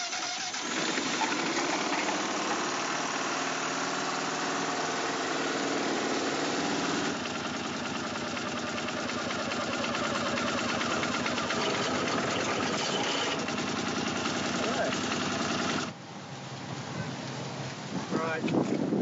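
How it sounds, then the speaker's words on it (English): A boat engine runs in a steady, loud drone for about nineteen seconds. It is used to turn over chains and drops to a lower level near the end, with no talking. "Try and kick these chains over using the engine."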